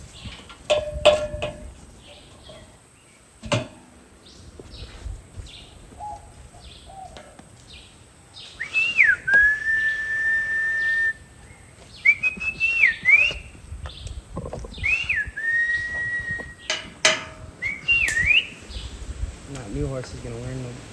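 A person whistles to call horses on a Costa Rican cattle ranch, giving several rising and warbling whistle phrases over outdoor background noise, with some brief rustling and knocks earlier.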